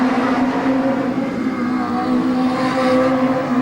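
National Hot Rod race cars at Arena Essex in 1989 roar around the oval toward the checkered flag, a continuous loud blend of racing engines at sustained high revs without a break.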